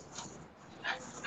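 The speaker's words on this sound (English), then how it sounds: "These dogs are crazy." Dogs let out a couple of short, high yips and whimpers at moderate distance, two brief bursts separated by a pause, fairly faint and with no speech over them.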